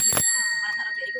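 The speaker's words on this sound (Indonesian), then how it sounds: "sampai bel-belnya juga original Rolflex" Original Rollsfast bell on a vintage bicycle rings once with a bright, loud metallic ding that sustains and slowly fades, with faint speech murmuring beneath the decaying tone.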